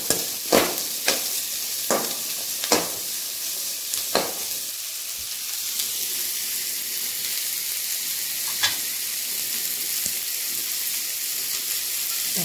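Onions sauté in a pan for chicken gravy, a continuous sizzle broken by several sharp spoon scrapes and knocks as they are stirred, thinning out later into steady frying.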